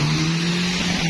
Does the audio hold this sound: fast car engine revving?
yes